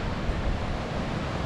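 Ocean surf rolling in at Ngalur beach in Tulungagung, a steady broad wash of breaking waves with some wind rumble, continuous and close throughout with no voices.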